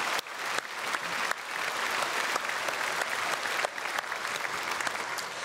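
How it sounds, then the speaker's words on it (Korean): A church congregation at a Sunday service breaks into warm welcoming applause, a full and continuous round of clapping with a few sharper claps standing out, heard at a moderate distance. "우리 크게 박수로 환영하도록 하겠습니다"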